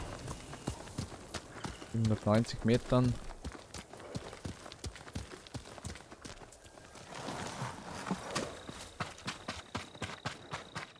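Rhythmic clip-clop of horse hooves in the video game Ghost of Tsushima comes in a short loud burst, then fades beneath background noise and a voice speaking.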